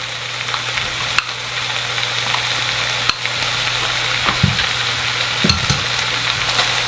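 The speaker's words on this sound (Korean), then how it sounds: "물이 생기지 않도록 잘 섞어서 볶아주세요" Webfoot octopus stir-fried with onion and sauce in a hot pan gives a steady, loud sizzle and crackle throughout, with a few stirring scrapes and clanks near the end, and no talk.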